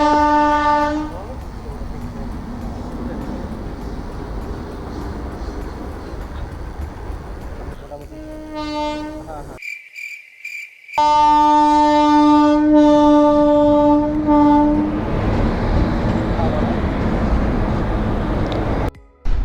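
At a railway level crossing, a train rolls past with loud, close rumble and clatter of wagons, and a long sustained horn blast sounds twice, the second after a brief cut in the sound.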